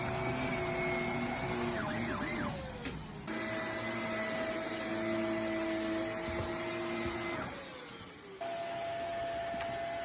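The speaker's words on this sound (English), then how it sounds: "I found a pig that really hates vacuum noise." A loud, steady vacuum cleaner drone runs throughout, its motor pitch dipping and rising as it cuts out and restarts, with no voices.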